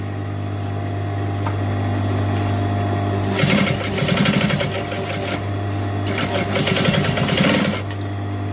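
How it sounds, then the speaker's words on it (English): Sewing machine stitching a pocket into a seam, with a steady low motor hum and then two bursts of fast, rattling needle stitching, close and fairly loud, with a pause between them. "I'm going to catch the pocket in as I stitch."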